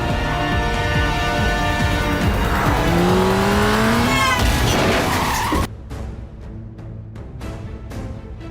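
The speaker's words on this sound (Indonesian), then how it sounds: "Si psikopat langsung bergegas tancap gas." A car speeds off with tires squealing loudly, a rising engine roar and screeching skid that cut off abruptly into quieter clattering and thuds.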